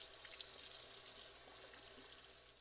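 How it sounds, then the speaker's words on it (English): Tap water runs steadily into a sink to rinse out a coffee maker straw, a close, continuous hissing splash that eases slightly toward the end. "Rinse out the straw."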